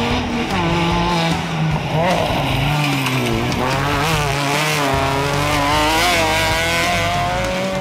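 Peugeot rally cars from the 2011 Copa Peugeot de Rali round in Poços de Caldas drift through curves. Loud, continuous engine roaring rises and falls in pitch with the revs, mixed with squealing tires.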